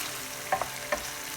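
Half-cooked potatoes fry in a pan under a low hiss, with two or three quick spatula clicks as they are stirred, brief and close.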